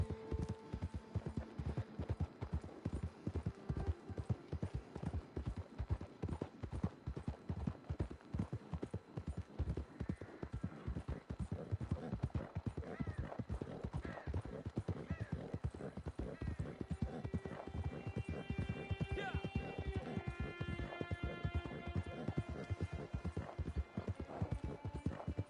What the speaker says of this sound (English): And that'll become your new horse